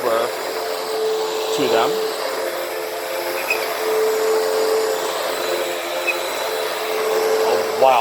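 A Hoover Windtunnel vacuum cleaner runs on household dirt, a steady whining motor drone with shifting pitch as it sweeps, close and loud, with a brief spoken remark over it.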